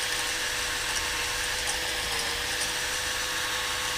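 The cylinder of a Hayter lawnmower turns steadily while being honed with oil, giving a continuous, even grinding whir with a faint rattle. It is close and unbroken, with no talk.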